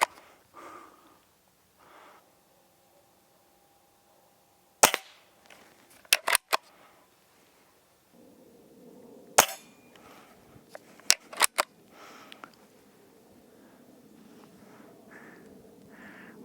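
Sharp, loud shots from a Hatsan Model 25 Supercharger .177 break-barrel air pistol, single cracks spaced apart with a quick cluster of three, separated by quiet handling and faint breathing.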